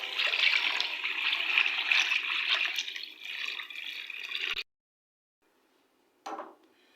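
Water, 1.5 litres for a kilo of rice in a degi chicken pulao, pours steadily into a cooking pot for several seconds, then stops, followed by a brief final splash, with no talking.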